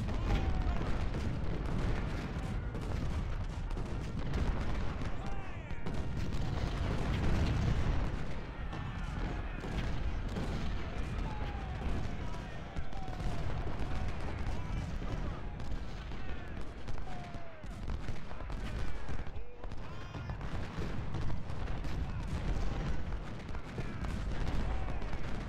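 In Ultimate General: Civil War at the Battle of the Wilderness, a constant din of distant musket volleys and booming artillery rolls on without pause, with dull scattered cracks layered into a thick battlefield wash.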